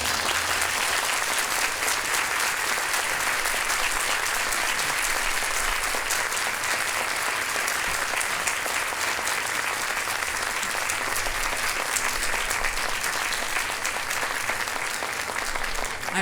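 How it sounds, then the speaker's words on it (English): Audience applause at a national book festival after an author's talk, dense, sustained clapping from a large crowd filling the whole stretch at an even level. "guessing that applause is for the librarians"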